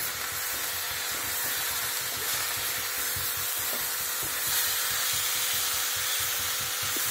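Mint chutney is gently stirred and sautéed in a pan for a mint rice pulao, giving a continuous steady hiss and sizzle with soft scraping under it.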